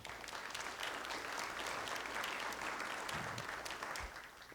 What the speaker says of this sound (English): So if you could applaud the professionals that are here supporting us today